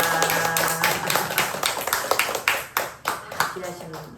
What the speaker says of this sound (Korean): 우리 한번 하나님만 박수 한번 치겠습니다